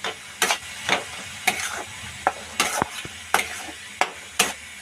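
Mashed brinjal sautéed in masala for a spicy bharit: a spatula scrapes the pan in repeated, evenly spaced strokes over a soft, steady background of frying, close and moderately loud, with no talking.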